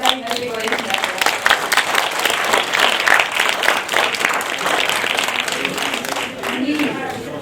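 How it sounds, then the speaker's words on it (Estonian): Audience at a public transport talk gives sustained, dense applause that stays loud and even for several seconds, with faint voices underneath. "teeme suure aplausi Tallinna Ülikooli esindajale"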